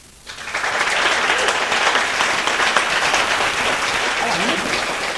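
Steady applause from an audience, a dense wash of clapping that starts abruptly and holds at full strength throughout.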